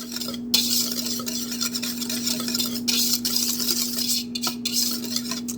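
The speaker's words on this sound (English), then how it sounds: "Give it a good whisk." Dry pudding ingredients being whisked in a microwavable bowl, a fast continuous scratchy swishing of the whisk against the bowl, close and steady over a constant low hum, briefly pausing a few times.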